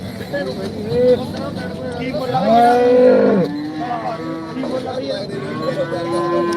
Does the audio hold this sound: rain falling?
no